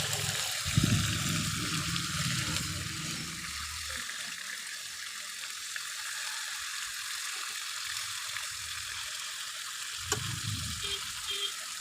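Chicken pieces frying in a pan for an Afghani chicken gravy, a steady hiss and sizzle with occasional louder clattering bursts from handling.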